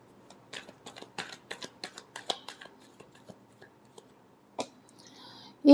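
Tarot cards shuffled by hand in a rapid series of crisp flicking riffles, close and fairly quiet, thinning out near the end before a short burst of voice.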